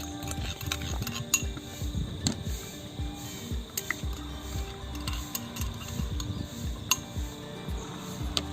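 A spoon stirs green chilli, ginger and garlic paste with mint in a metal bowl, making steady small scraping clinks and taps throughout, close and quiet with no one speaking.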